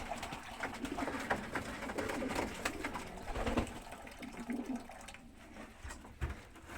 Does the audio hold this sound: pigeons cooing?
yes